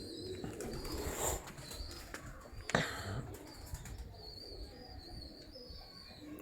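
Champion pigeons coo softly in a bird loft, their rolling calls repeating at a moderate distance over a quiet background, with a sharp wing clap or knock partway through.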